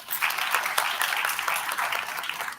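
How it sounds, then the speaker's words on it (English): A Teachers Day celebration audience claps in a steady, moderately loud round of applause, even and continuous throughout. "A big round of applause, please."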